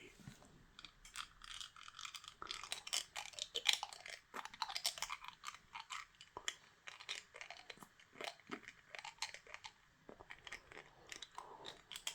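Close, quiet crunching and clicking as someone chews and bites on assorted hard objects, irregular crisp snaps and grinding textures repeating without pause, recorded intimately in ASMR style.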